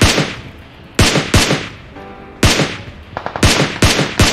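Gunfire in PUBG Mobile, a series of loud sharp single shots spaced irregularly, with a quick rattling burst near the end, close and punchy.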